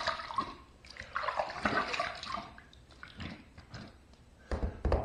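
Shaving brush being rinsed under running water in a bathroom sink, with splashing and gurgling bursts of flowing water, fairly close and quiet, stopping and starting over a few seconds.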